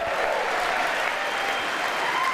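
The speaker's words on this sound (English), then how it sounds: "Republicans are going to leap to their feet and applaud between every other sentence" An audience at a Joint Address to Congress applauds, a dense sustained wash of clapping from a large crowd, loud and even throughout.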